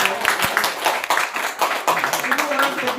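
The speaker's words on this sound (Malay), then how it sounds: "kita bagi tepukan pada diorang sebab diorang sanggup stay" Audience applause at an indoor health talk, a crowd clapping for the people who stayed standing: dense, steady clapping throughout, with a voice speaking over it.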